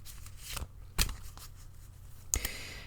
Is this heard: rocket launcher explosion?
no